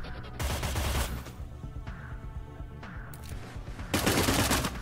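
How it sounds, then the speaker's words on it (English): Bursts of gunfire crackle in the turn-based video game Cyber Knights Flashpoint, coming as loud rapid volleys at the start and end with quieter scattered shots and a lingering tail between them. "Fortunately, we're now taking gunfire back because we were not fast enough with Mirza."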